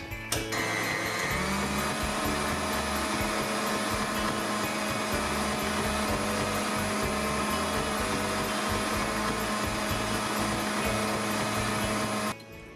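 An electric mixer whirs steadily and loudly while beating homemade lox spread, with a continuous motorized drone that holds throughout and cuts off near the end.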